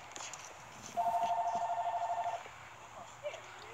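A telephone trills in a short electronic ring lasting over a second, moderately loud amid low room noise and faint background sounds.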